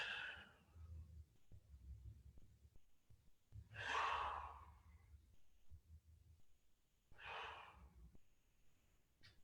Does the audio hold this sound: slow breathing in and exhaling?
yes